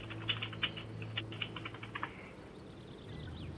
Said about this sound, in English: I hear a keyboard.